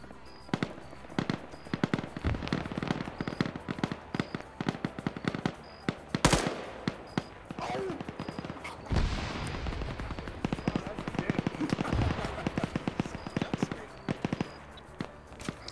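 Dense, continuous gunfire from a multiplayer shooter match, rapid automatic bursts and sharp single shots crackling throughout, with louder heavy blasts near the middle, under steady commentator talk.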